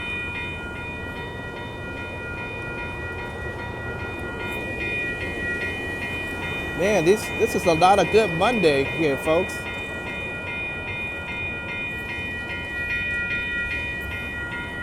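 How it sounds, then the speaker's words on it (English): An Amtrak Capitol Corridor train led by a 2003 F59PHI locomotive rolls past a railroad crossing in Oakland as a steady low rumble, while crossing bells ring throughout and someone speaks briefly over it. "that train is off to San Jose Diridon station"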